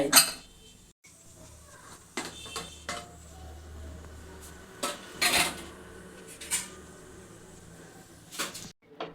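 Metal utensils clink and scrape against a pressure cooker pot while mixing chicken biryani, with intermittent knocks and clatter over a low background hum.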